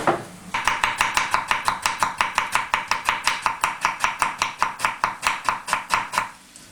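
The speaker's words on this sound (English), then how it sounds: "best to chop them in the middle. Chop them that way" Steady, rapid knife chops through vegetables on a cutting board, about four per second, close and crisp, continuing evenly for several seconds with no voices.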